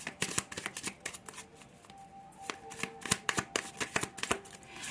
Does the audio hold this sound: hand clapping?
no